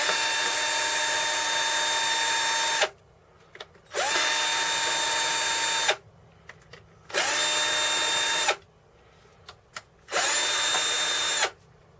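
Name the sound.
power drill removing screws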